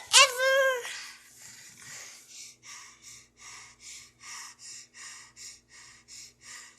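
After a brief high vocal squeal, a person breathes heavily in a quick, steady rhythm of loud, close panting breaths, about two per second.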